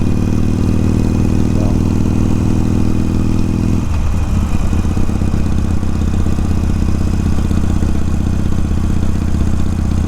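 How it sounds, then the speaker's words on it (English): Harley motorcycle riding along quiet back roads, a loud, steady engine drone with a low rumbling clatter and a gear shift partway through, plus continuous road and wind noise. "Feels good to be back on the motorcycle. I missed my little Harley."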